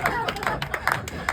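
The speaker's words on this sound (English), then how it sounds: "got a round of applause that one." Crowd at a rooftop vegan gathering briefly clapping, with scattered individual claps over background chatter and talk, fairly quiet and close.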